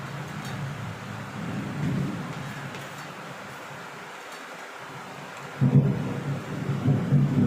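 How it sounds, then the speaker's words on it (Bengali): Steady rain pours outside with low rumbles of thunder rolling through, one heavier burst near the end; no one speaks. "প্রচণ্ড বাইরে বৃষ্টি হচ্ছে আকাশ চমকাচ্ছে"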